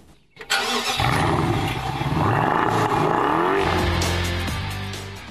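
A BMW 650i with a 300 kW 4.4-litre eight-cylinder engine pulls away hard. A loud, close V8 roar swells as the revs rise, holds steady, then slowly fades.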